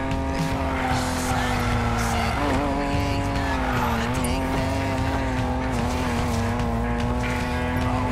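A car drifting on a course in Need For Speed Payback: a sustained, wavering tire squeal rides over a loud, continuous engine roar for about eight seconds, with a brief voice heard under it.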